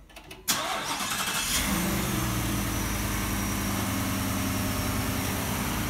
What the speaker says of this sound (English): I'll crank up the engine.